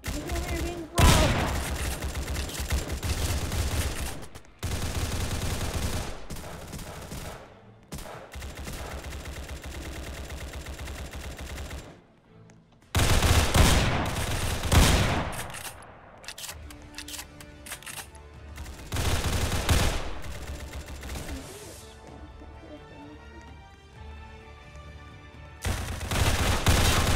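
Heavy automatic gunfire in the Roblox game Doors with guns, long sustained loud fusillades broken by sudden silences, with later bursts thinning into scattered clicks and shots, voices faintly underneath.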